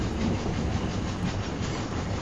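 Train rolling steadily on rails, a continuous close rumble with faint rhythmic clatter of wheels over track joints, heard alone without talk.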